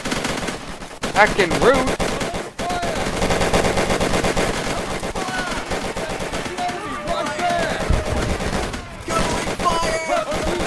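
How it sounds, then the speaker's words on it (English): Dense machine-gun and rifle fire rattles almost nonstop in the World War 2 shooter Easy Red 2, loud and close, with brief gaps and a player shouting over the bursts. "Somebody's shooting at me!"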